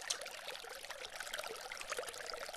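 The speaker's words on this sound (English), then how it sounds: "dripping lots of little water through moss or from a number of rock locations in a waterfall" Faint, busy trickle of many small drips of water falling through moss and off several rocks in a garden pond waterfall, soft and continuous with no voices.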